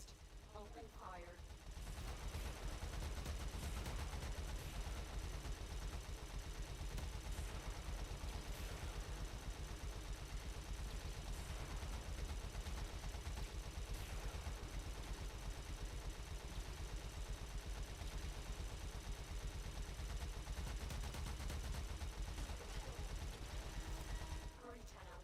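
Sustained rapid gunfire from the video game Warframe, dense continuous bursts and chatter running at steady loudness for the whole stretch, with game effects layered in.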